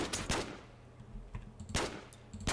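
Gunfire in a Turkish video game: a few sharp broadband shots ring out in bursts, close and moderately loud, separated by quieter stretches of low game rumble.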